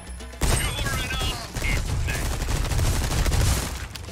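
Rapid bursts of TMP submachine gun fire in the Resident Evil 4 Remake shooting range, loud, dense and continuous automatic rattling, with sharp ricochet-like pings over the top.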